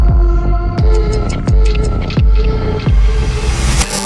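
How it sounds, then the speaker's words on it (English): A deep, booming heartbeat sound effect thumps in a steady pulse about every 0.7 seconds, loud and close over a low throbbing hum, with no voices. "The heartbeat races and the pulse soars."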